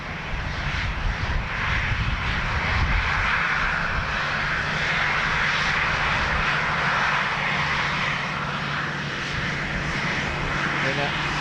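An Aer Lingus airliner roars on its landing approach at Dublin Airport, a steady broad engine drone holding for several seconds.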